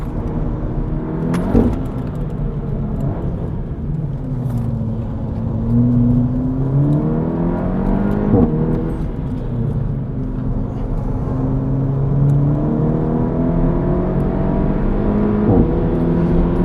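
A 280bhp SEAT Leon Cupra accelerates on track, its engine note climbing through several gears with brief shift breaks and a sustained interior drone, loud and steady without voices.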